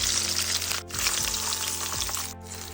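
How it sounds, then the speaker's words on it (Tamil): Tandoori chicken strips fry in a pan and are flipped, giving a steady loud sizzle broken by two short pauses, with a few soft clinks as pieces turn over. "நம்ம திருப்பி விட்டுட்டு நல்லா திருப்பி விட்டுட்டு வரட்டும்."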